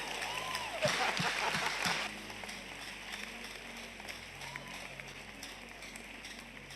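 Clapping from an audience at a church-style talk on courtship, a brief burst of claps near the start over a room hum, then the room settles to quieter background noise.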